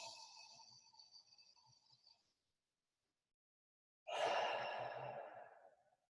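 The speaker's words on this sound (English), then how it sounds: "let's go ahead and take a few deep inhales" A group on a team call takes deep breaths together: a long drawn-out exhale fades away, a silent pause follows, then a louder, close breathy inhale-and-release rises and tails off.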